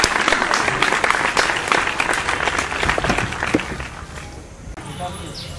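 Applause for a contestant who has just won seven crore rupees on a rustic comedy spoof of the KBC quiz show, steady dense clapping that thins out toward the end, with voices mixed in.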